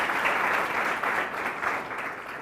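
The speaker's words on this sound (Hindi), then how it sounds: "इनका भी जोरदार तालियों से स्वागत कीजिए।" Audience applause welcoming a science subject expert panelist at a school higher-education discussion event, a steady dense clapping that holds at even loudness throughout with no talk over it.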